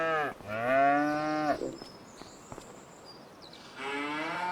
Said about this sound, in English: All these cattle.